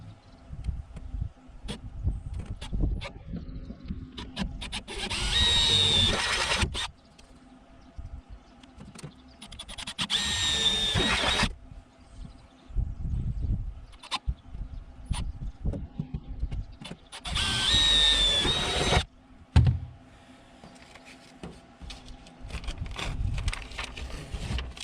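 A power drill with a 1/4 inch bit whirs in three separate bursts of a few seconds each, drilling holes to mount a pontoon boat kicker motor, with clicks, knocks and handling noises in between.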